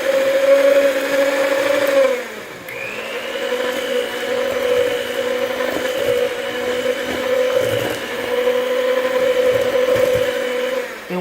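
An electric mixer whirs steadily as it blends an egg into double chocolate chip cookie dough, its motor pitch dipping briefly near the start before holding a continuous, loud drone.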